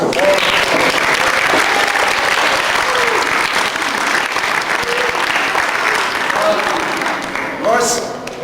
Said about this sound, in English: Well, let's clap for Mr. Jorden.